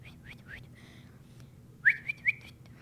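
A person whistles to catch a show horse's attention: a few soft, short upward whistles, then a louder, sharper rising whistle with quick repeated chirps, close and clear.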